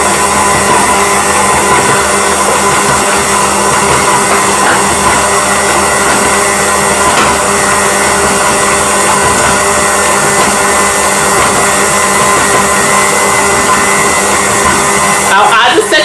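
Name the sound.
electric mixer running while making cake batter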